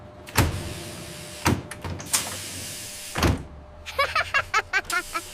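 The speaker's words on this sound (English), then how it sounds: "Doors on the bus open and shut." Bus doors open and shut in a children's toy setup, heard as several sharp thuds and slides spaced out, then a quick run of rhythmic mechanical clicks near the end, close and fairly loud.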